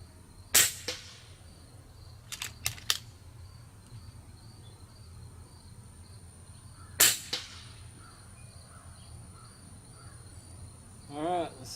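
Air rifle shots from an FX Crown or a 10/22 at an outdoor range, three sharp cracks spaced apart, the last one loudest, over faint crickets and a quiet background hum.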